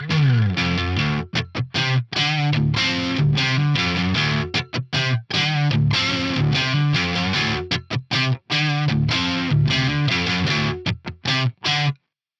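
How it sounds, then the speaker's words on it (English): Distorted electric guitar through an amp's built-in chorus effect plays choppy chords and short riffs, alone, with brief gaps between phrases. "What I'm going to do is turn on the built-in chorus"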